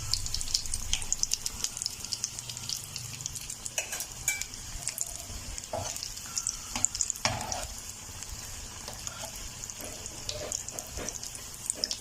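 Chicken cheese bread rolls frying in hot oil, a steady bubbling sizzle running throughout with scattered clinks and light scraping of a utensil, fairly close and without talk.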